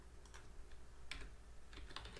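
Keystrokes on a computer keyboard, soft irregular taps in small clusters, faint and close against a quiet hum, with no talk.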